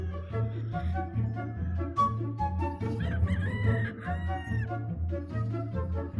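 Chickens cluck and a rooster crows in a long, drawn-out call midway through, heard outdoors among houses where many chickens and goats are kept.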